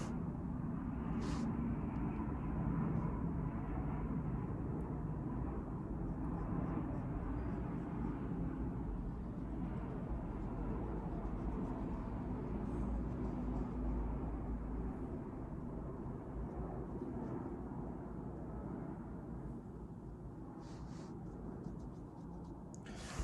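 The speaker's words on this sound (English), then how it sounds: "I'll let the plane pass." An airplane passes overhead as a long, steady broadband rumble that swells and then slowly fades over about twenty seconds, distant and continuous with no talking.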